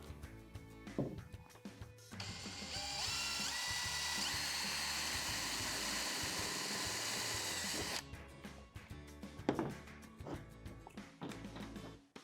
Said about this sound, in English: we'll pilot a small hole and install a screw to hold the tent support tip in.